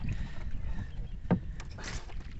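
A small wooden boat drawing close on a tidal creek at Shrivardhan, with water sloshing and a soft wash against the hull, a few brief knocks and splashes, and wind noise throughout.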